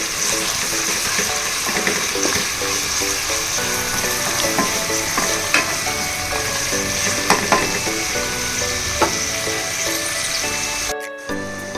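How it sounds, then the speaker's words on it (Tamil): Sliced onions sauté in a pan for potato biryani, giving a steady, close sizzle that holds throughout, with a few faint scrapes from stirring. "வெங்காயம் நல்லா வதங்கட்டும்"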